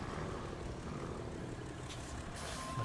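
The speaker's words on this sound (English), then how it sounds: "Dude just drove by in a truck and it sounds like" A truck in SnowRunner rolls past with a steady droning engine and a rattle like metal pans rubbing in its engine or suspension, continuous and fairly loud.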